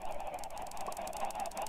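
Many Minecraft chickens cluck and squawk in a dense, continuous flurry of overlapping calls, loud and close with no pauses.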